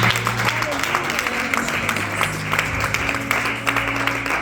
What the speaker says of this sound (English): Let's clap our hands for the woman of God